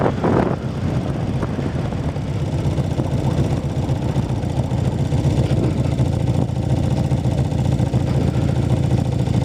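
Steady engine drone and road rumble from a car rolling through the city of Sharon, heard from inside with constant wind buffeting and no break in the noise.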